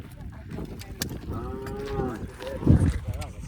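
A bull moos loudly in a drawn-out, tonal call at bullock cart race practice in rural Maharashtra, with a rougher, throatier bellow following near the end.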